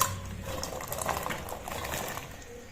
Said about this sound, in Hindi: देचकी में हमने पानी को डाल दिया, मजीद और भी पानी डालना है इसमें